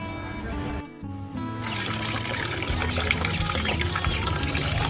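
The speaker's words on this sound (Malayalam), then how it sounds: "നമുക്ക് ഈ മുറിച്ച് വെച്ച കോഴിനെ നല്ല വെള്ളത്തിട്ട് കഴുകിയെടുക്കണം." Cut pieces of country chicken washed in water, a continuous close splashing and pouring with a brief pause near the start, steady and fairly loud.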